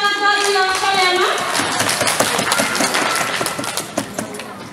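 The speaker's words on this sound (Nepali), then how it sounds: "उहाँलाई पनि हामी जोरदार तालीका साथ स्वागत गरिदिनु" An audience at a Teej festival gathering in Albury Wodonga claps to welcome a guest, a dense, sustained burst of applause that rises right after a voice and carries on steadily to the end.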